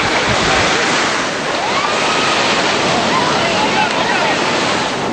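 Ocean surf crashing at a surfing beach, a loud continuous roar of breaking waves mixed with wind buffeting the microphone, with voices talking over it.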